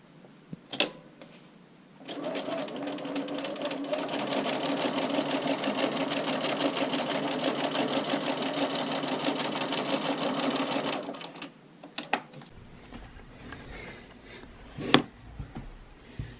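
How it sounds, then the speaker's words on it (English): A sewing machine top-stitches a bra band, running steadily for about nine seconds as one loud, continuous stretch of stitching, with brief handling clicks before and after. "So I'm just going to top stitch this down and this side is complete."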